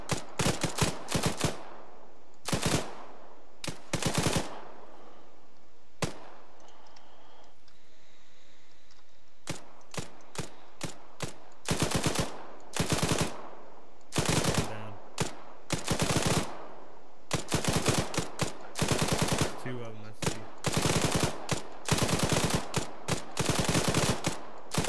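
Rapid bursts of gunfire, many sharp shots fired in quick clusters with short pauses between, loud and close, over a quiet background.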